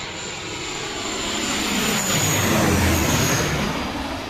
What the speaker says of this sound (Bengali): মাথার উপর দিয়ে যাবে এই ড্যাশ এইট ফোর হান্ড্রেড মডেলের বিমানটি